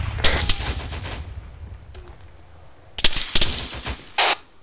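Artillery rounds land near a BTR armoured vehicle in the video game ARMA 3, heard as bursts of sharp, rapid gunfire-like cracks and thuds in two clusters with a short lull between them.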